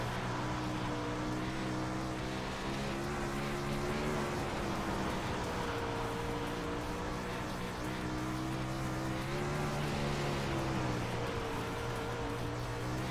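A race car's engine drones steadily on a track, loud and close, with the pitch rising and dipping slightly as it pulls through corners, a continuous roar with no gaps.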